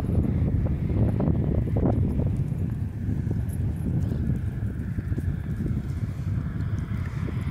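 A tame black overo horse's hooves clip-clop steadily on hard ground, a continuous rhythmic patter close by, with a low wind rumble underneath.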